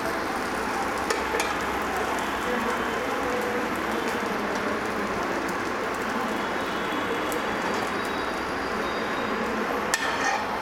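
Bread frying in ghee in a pan, a dense, steady sizzle and crackle that runs evenly throughout with a few sharp ticks, close and unbroken, with no voices.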